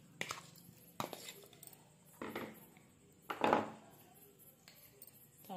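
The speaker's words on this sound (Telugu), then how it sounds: "ముందుగా బౌల్ తీసుకొని చికెన్ పీసులను వేసుకోవాలి" Raw chicken pieces dropped into a bowl while preparing oil-free dahi chicken curry, heard as several separate soft thuds and clinks spread over a few seconds, close by and fairly quiet, with no talking.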